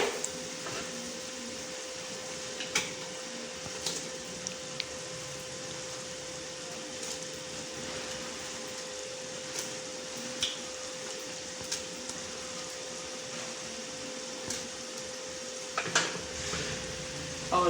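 Pakoras being added and stirred into a simmering curry in a pot, with a low steady bubbling hiss and occasional faint clinks and scrapes of a spoon spread through the stretch.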